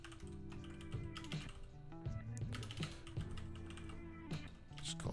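Quick, uneven run of computer keyboard typing, keys clattering steadily at close range over a constant background music bed, with no voice present.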